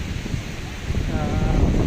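Sea waves rolling onto Ulas beach in Lagonoy, with wind buffeting the microphone; a steady low roar of surf builds slightly louder toward the end.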